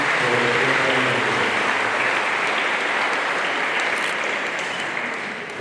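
A church congregation applauds at a three-year-old girl's presentation ceremony, loud dense clapping that tapers off toward the end, with faint voices underneath.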